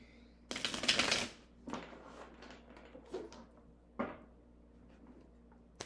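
A deck of tarot cards is shuffled up close, with a long riffle-like burst at the start followed by several shorter, softer card shuffles spaced through the rest of the clip, with no talking.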